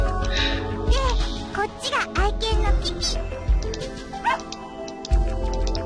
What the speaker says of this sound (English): So that isn't a tanuki, it's a dog.